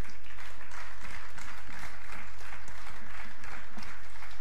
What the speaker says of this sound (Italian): A lui vorrei che arrivasse il nostro grande applauso.